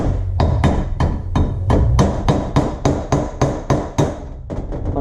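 Hammer striking a punch to drive out the front cover crank seal on a Mazdaspeed 3 or 6, a close, loud series of about a dozen sharp metallic blows in a steady rhythm.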